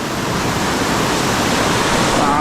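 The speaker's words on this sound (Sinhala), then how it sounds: "පට්ට වතුර පාරක් එන්නේ" A strong, fast stream of water rushing past at close range, a loud, steady, broadband roar without a break and no voices.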